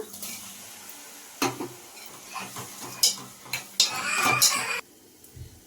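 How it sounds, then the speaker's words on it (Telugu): Tomatoes frying in a pan for egg curry, with a quiet sizzle under repeated clinks and scrapes of a spoon stirring against the metal, ending in a louder burst of stirring. "ఇప్పుడు ఇందులోనే టొమాటోస్ ఇవి వేసేస్తున్నా"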